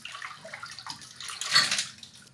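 Water trickles and splashes as a handful of wet paper pulp is lifted and drained back into a papermaking vat, a soft pouring burst swelling near the end, close and alone.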